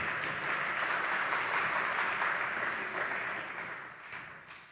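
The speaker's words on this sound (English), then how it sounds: "Let's give them another round of applause." Symposium audience applauds steadily in a large hall, a dense, even wash of clapping that slowly tapers toward the end, with no voices over it.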